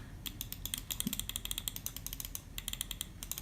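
Cheap all-plastic five-dollar gaming mouse with no thumb buttons, its main buttons clicking in a quick, irregular run of sharp, close, dry ticks heard alone.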